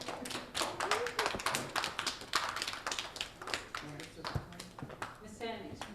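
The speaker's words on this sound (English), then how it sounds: "let's give a clap for DeAnthony for being a great helper" Young children in a Head Start classroom clap for a classmate, a quick scattered patter of small hands, close and uneven, while adults talk over it.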